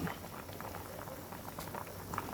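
A pot of Isan-style tom som soup with snakehead fish and red ant eggs boils steadily, with dense close bubbling and soft popping throughout.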